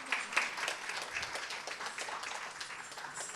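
Faint, distant applause from an audience at an India cultural exchange event, with loose clapping for dancers that runs for a few seconds at low volume.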